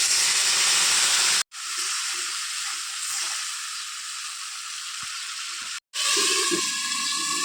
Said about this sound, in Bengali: এখন আমি এর মধ্যে মশলাটা দিয়ে দিচ্ছি।